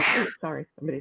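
A single sharp sneeze up close, followed right away by a person speaking briefly.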